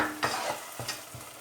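Tomatoes in a covered pan give a soft, steady frying sizzle, broken by a few brief scraping stirs, heard close up with no voices.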